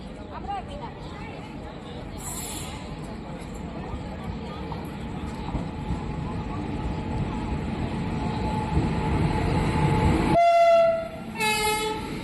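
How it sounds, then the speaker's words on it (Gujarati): A crowded train rumbles into a station, growing steadily louder, with murmuring voices of the crowd around, then a couple of sharp horn blasts sound near the end. "ફાઇનલી મિત્રો, આપણી ટ્રેન આવી ગઈ છે."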